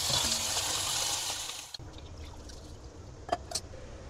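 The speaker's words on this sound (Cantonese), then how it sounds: "散乾淨固然之就係例牌沖一沖水咁樣" Bitter melon is rinsed under a running kitchen tap, a steady close gush of water that stops abruptly, leaving a few quiet drips and handling sounds.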